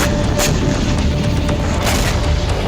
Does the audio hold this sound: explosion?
yes